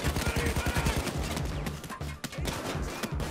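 Rapid bursts of gunfire in a bank heist mission of the video game Payday 2 crackle in quick succession, dense and continuous, with a brief lull before more shots follow.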